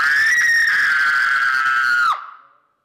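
A person lets out one long, loud, high-pitched scream at full strength, holding it steady for about two seconds before cutting off abruptly into a short fading echo.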